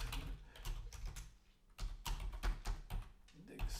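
Soft typing on a computer keyboard, bursts of quick irregular key taps with a short pause in the middle, recorded close and quiet.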